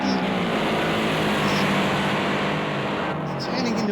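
Toyota 86 race cars battling side by side up onto the banking of a circuit in a championship race: a loud, steady engine roar that holds throughout, with a voice faintly over it.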